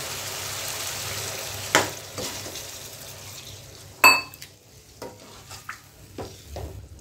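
Fried chicken leg pieces are stirred through an oily masala, giving a soft continuous sizzle broken by a few sharp scrapes and clinks of the spoon against the pan. Close and moderately loud, with no talking.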